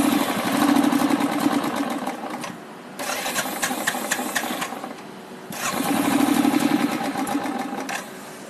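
A Royal Enfield Thunderbird 350X with its fuel tank run dry cranks and strains to start in three long, loud bursts separated by short pauses, heard up close.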